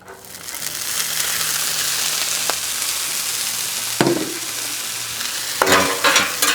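Corn and black beans hit canola oil on a hot flat-top griddle, bursting into a loud steady sizzle, followed by sharp scraping strokes and a fresh crackling flare near the end.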